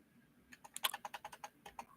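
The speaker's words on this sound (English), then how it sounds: "Keyboard gone wild." Fast typing on a computer keyboard, a quick close burst of about a dozen crisp key clicks with one louder clack near the start, over near silence.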